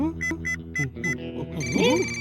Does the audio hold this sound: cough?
no